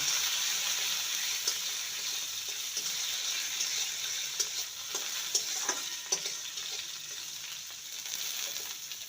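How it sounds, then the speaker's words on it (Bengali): Steady crackling sizzle of cumin, chopped green chillies and curry leaves frying in hot oil, with occasional sharp pops and faint stirring scrapes throughout. "কয়েকটা কাঁচা লঙ্কা কুচি আর কারি পাতা কুচি ফোড়নটাকে ভেজে নেব"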